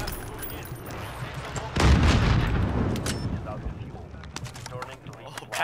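Gunfire in Call of Duty Warzone bursts loudly partway through, a dense volley of shots and booms over continuous game noise, with a player talking excitedly throughout.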